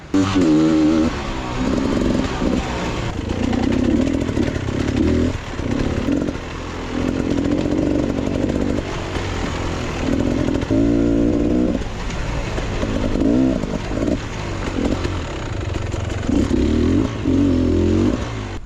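A Beta XTrainer enduro motorcycle is ridden on a trail, its engine buzzing loudly and close with repeated throttle surges and brief dips as the rider works over the terrain.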